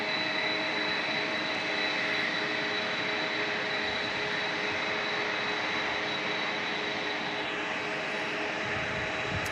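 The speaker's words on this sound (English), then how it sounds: "I hear a 767, and I hear it's a DHL looking over." A DHL Boeing 767 jet roars steadily near a large airport, a continuous broad engine rumble with a whining tone lasting the whole stretch, fairly distant and even in level.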